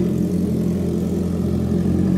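A Honda CB650R motorcycle fitted with an aftermarket exhaust idles with a steady, even low burble, close and fairly loud, holding constant throughout without revs or voices.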